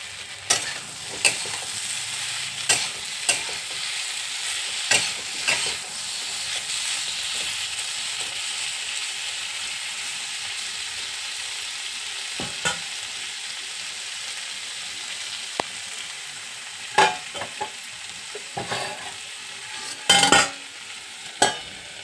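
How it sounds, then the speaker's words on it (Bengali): Pointed gourd and potato curry sizzles and fries in a pan at night in a home kitchen, a steady hiss broken by repeated scraping stirs and clatters of the spatula, close and clear. "এখানে এসে পড়েছি রাত্রে রান্না করতে, পটল আলুর তরকারি করব।"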